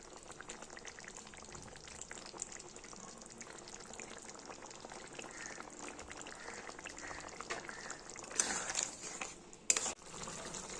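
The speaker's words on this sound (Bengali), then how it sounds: "ঝোল পুরো ফুটে গেছে।" Potato curry gravy (aloo dum) bubbles in a pot, a soft, steady low simmer and sputter at moderate distance, with a couple of brief clinks of a utensil near the end.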